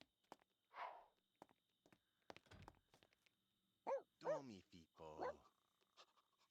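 A dog in a life-simulation video game gives a few short barks and panting sounds over scattered footsteps, with game voices mixed in, all fairly faint.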